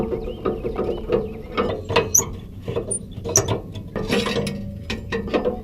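A tow dolly ramp has its pin pulled and the ramp unlatched, producing a run of close metallic clicks, ratcheting rattles and clanks with no talking.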